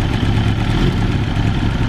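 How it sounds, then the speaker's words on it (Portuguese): A 2020 BMW S1000RR superbike with a new exhaust and unmodified engine runs close by, a steady, loud, rough mechanical idle with a dense clattering rumble and no break. "Olha o barulho que esse motor faz"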